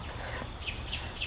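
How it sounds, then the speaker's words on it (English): Birds chirp and whistle in a few short, repeated calls at moderate distance, set against a steady low background hum with no talking. "listen to the birds"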